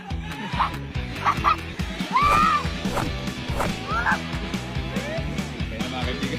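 Dog barks break out a few times amid a noisy outdoor bag race, mixed with fowl honking, shouting and crowd commotion, loud and close.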